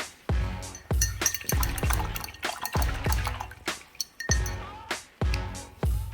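A paint-by-numbers brush swishes and taps in a small container of water, making repeated light clinks and splashes in an uneven rhythm, close and quiet.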